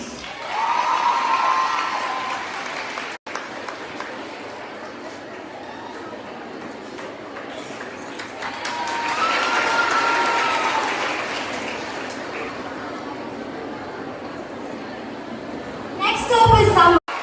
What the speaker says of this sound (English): let's give her a huge round of applause and welcome Ms. Meenakshi Odikrishnan onto the stage.